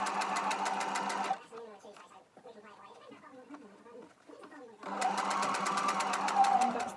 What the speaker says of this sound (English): I'm just going to sew that shut